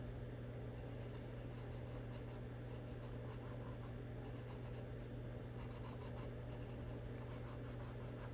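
A marker or colored pencil stroking across paper while coloring a patterned dress drawing in red: faint, steady scratchy strokes in short repeated bursts, close up over a low hum.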